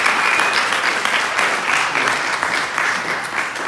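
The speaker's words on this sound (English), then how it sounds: "I want everyone to give a big round of applause to Ross" Steady applause from a rehearsal dinner audience fills the whole stretch, a dense, even wash of many hands clapping at close range with no talk over it.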